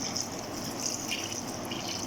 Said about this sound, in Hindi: 3 कप जो है पानी शामिल कर देती हूँ।